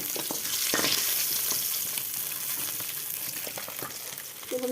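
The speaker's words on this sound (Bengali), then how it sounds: "তো বন্ধুরা এইভাবে লাল লাল করে ভেজে নিচ্ছি।" Fish sizzling as it fries in hot oil in a Bengali home kitchen, a continuous close crackling hiss with occasional clinks and stirring scrapes, no talk.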